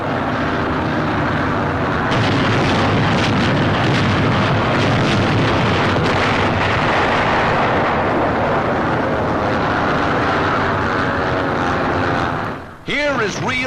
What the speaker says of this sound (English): During the landings, the merciless pounding of the entire invasion area continues.